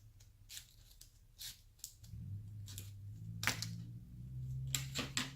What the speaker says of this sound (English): we're going to aim our scissors to about halfway through that big triangle there